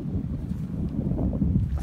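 Strong wind blowing across an open sandy beach at low tide on Bangka island, Indonesia, near evening: a steady, loud low-frequency rumble of wind buffeting the microphone, continuous and without speech.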